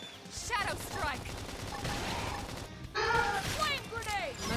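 Video game gunfire in Xenoblade Chronicles X, rapid bursts of shots and impacts mixed with battle effects under a talking voice.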